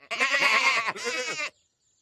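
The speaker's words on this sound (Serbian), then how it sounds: "Fi i Tom su pitali ovce da li su one vidjele misteriozno stvorenje." A sheep in a farm cartoon bleats twice in a row, loud and close, with a short break between the two calls. Silence follows.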